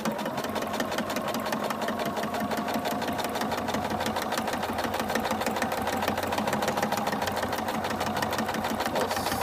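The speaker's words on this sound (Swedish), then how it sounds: "Och så syr vi." A sewing machine stitches a zipper seam in one continuous run of fast, even needle clatter with a mechanical hum underneath, close and fairly loud throughout.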